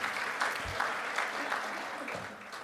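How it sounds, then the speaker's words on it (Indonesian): Audience applause for the Indonesian Minister of Women's Empowerment and Child Protection at a formal ceremony in Maluku, a steady wash of clapping from a moderate-sized crowd lasting a few seconds at medium distance. "tepuk tangan dulu buat beliau"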